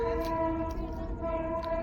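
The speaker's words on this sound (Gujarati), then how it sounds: "જો ટ્રેન આવે બીજી" A train rumbles past with a steady low roar and a sustained horn tone held throughout, loud and fairly close.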